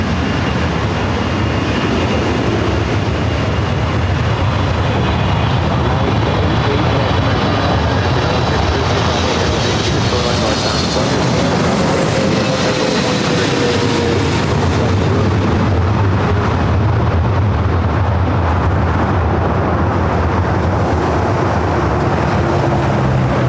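A jet takes off from runway 24 left at LAX with a loud, continuous engine roar that swells and sweeps in pitch as the aircraft passes close by.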